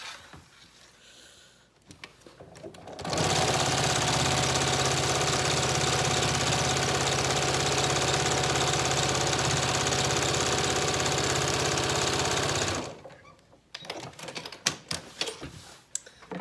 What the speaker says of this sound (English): I'm gonna just stitch right here on the top